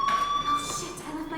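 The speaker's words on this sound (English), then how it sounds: "Hey, do you hear that fire alarm?" Fire alarm in the video game Life is Strange keeps ringing as a steady, loud electronic tone, with voices talking over it.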